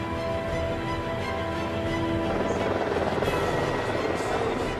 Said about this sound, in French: Les pilotes mettent les gaz.